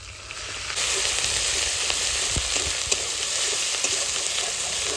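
A ground paste of garlic, onion, ginger, cumin and green and dried chilli hits hot oil in a pan with a sudden loud, steady sizzle that continues unbroken, close by, with faint scraping now and then.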